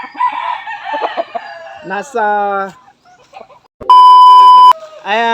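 A rooster crows loudly and close, with clucking and a sharp electronic beep in between, ending with another crow.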